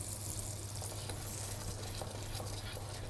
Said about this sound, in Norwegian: Rører godt rundt, så smøret fordeler seg.